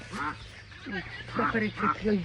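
Ducks quack repeatedly nearby in a busy, overlapping chorus, the calls coming in quick bursts over a faint background hum.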